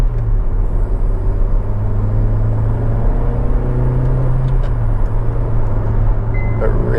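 A Honda Civic 1.8 i-VTEC SE five-door cruises along with a steady low engine hum and road rumble inside the cabin, the tone rising slightly midway and holding constant throughout.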